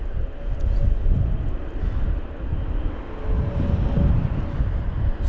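An Airbus A321neo climbs out of London Heathrow during Storm Kathleen, a low rumbling engine roar mixed with buffeting gusts of wind noise on the microphone, steady and fairly loud throughout.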